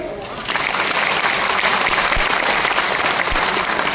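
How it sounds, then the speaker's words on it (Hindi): A crowd at a public event in Delhi breaks into loud, steady applause that swells after a brief start and holds evenly, with no talking over it. "तो बड़ा काम तो बड़ी तालियां"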